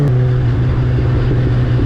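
A Yamaha FZ1S motorcycle engine drones steadily at a constant pitch, loud and close, with a smooth humming tone and no speech.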